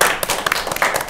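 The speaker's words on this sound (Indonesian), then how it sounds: "Tepuk tangan tuh" Close, loud clapping by a small group in a podcast studio welcoming a karate champion student guest, a quick burst of uneven individual claps overlapping with no talk.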